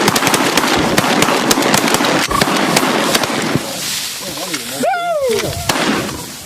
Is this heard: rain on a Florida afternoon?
no